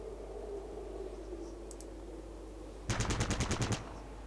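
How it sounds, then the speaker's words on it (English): Burst fire in the tactical game Fallout Tactics: after a quiet ambient stretch with a faint click, a loud rapid string of about eight gunshots rattles off in under a second. "We can actually move one more Step and then burst fire."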